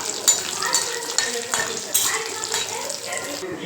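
Urad dal and dried red chillies sautéing in a pan over a low gas flame, with a soft steady sizzle, light stirring scrapes and a few faint clinks, close by.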